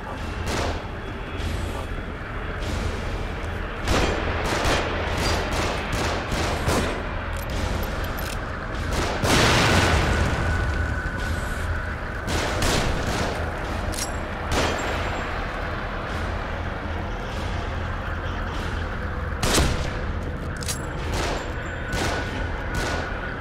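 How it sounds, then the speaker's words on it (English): Sustained gunfire from above in the horror action game The Evil Within, dense rumbling volleys and sharp individual shots over a constant loud background roar, with voices faintly mixed in. "shooting from above."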